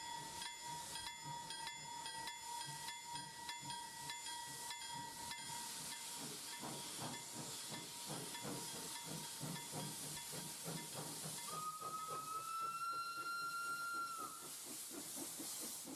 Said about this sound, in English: I've never seen so much steam blocking the locomotive as it's going off.